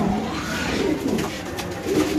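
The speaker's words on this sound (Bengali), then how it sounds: "দেখাচ্ছি ইনশাল্লাহ আমরা এই কবুতরটা ভাই। দেখবেন হ্যাঁ ডাকটা দেখাই দিই দর্শকরা" Pigeons at a bird market giving low, throaty coos that rise and fall close by over a steady background murmur.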